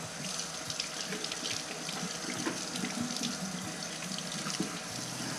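Tap water runs steadily into a sink while a raw turkey is rinsed, a constant close splashing wash with no talking.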